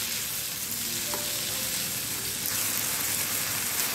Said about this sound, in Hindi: अब इसी में हम डालेंगे दो टमाटर, टमाटर भी डाल के हम अच्छे से इसको पका लेंगे।